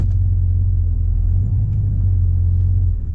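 A car engine runs with a heavy, steady low rumble while driving, loud and continuous throughout with no voices, the engine carrying a slight carburetor hesitation.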